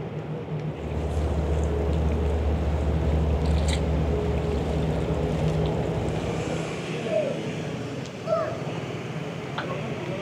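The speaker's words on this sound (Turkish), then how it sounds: "Şu anda da Gestaş firmasına ait gemi, arabalı vapur buradan kalktı." A Gestaş car ferry pulling away from the Avşa island harbor, a low rumbling engine drone with water wash and wind buffeting that fades after several seconds, leaving lighter harbor ambience and faint distant sounds.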